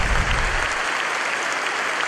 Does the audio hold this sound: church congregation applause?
yes